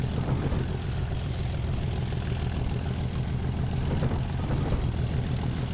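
A British Rail Class 37 diesel locomotive engine in the Transport Fever game, giving a steady, loud, low throbbing rumble with a rough tractor-like chug that holds without pause.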